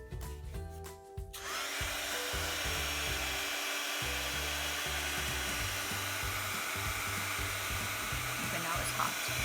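A heat gun blows steadily and loudly over a journal cover, melting embossing powder, a continuous whooshing roar with a few low mechanical thumps near the start.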